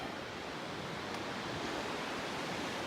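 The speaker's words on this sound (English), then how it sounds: "this is probably the waterfall that the waterfall trail is referring to" Waterfall beside an icy, frozen-over trail at Grassi Lakes in Canmore, Alberta, late season: a steady, dense rush of falling water, loud and continuous throughout with no talk.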